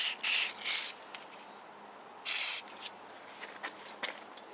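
Three short bursts of aerosol spray hiss along the edges of a car window, two quick ones then a longer one after a pause, with faint scraping and ticks in between.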